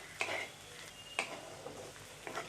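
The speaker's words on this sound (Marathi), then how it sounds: "एक बारीक चमचा यामध्ये मी हळद घालून घेते आणि मसाला मी थोडासा छान परतून घेणार आहे तेलामध्ये" Turmeric and masala are stirred in hot oil, with three sharp spoon clicks against the pan over a soft, faint sizzle.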